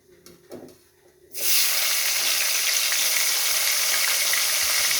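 Cumin seeds and tomato drop into hot oil for a silver carp curry. After a few quiet clatters, a sudden loud sizzle erupts and holds steady as a close, continuous hiss.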